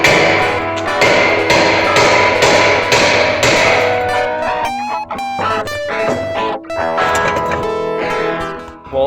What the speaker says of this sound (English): So I'm going to smack it around here with a hammer to get it loose.